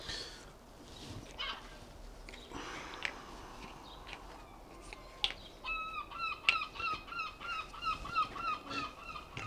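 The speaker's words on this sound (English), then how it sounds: "As you can hear, seagulls" Repeated squawking seagull calls ring out by the coast in the second half over a low outdoor background rumble, fairly close and rhythmic.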